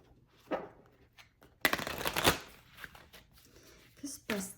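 Tarot cards shuffled and handled during a reading: soft riffling bursts with one louder, dense shuffle in the middle, interspersed with quieter card handling and brief speech.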